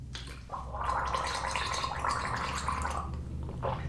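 A voice imitates a gargle, a wet, bubbling rattle sustained for a few seconds at close range.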